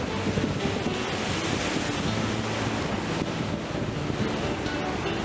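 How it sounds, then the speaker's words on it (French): Steady, dense roar of rushing water where the Djoué river joins the Congo River, constant and broadband with wind buffeting the microphone throughout and no voices. "Le Congo reçoit avec fracas la rivière Djoué"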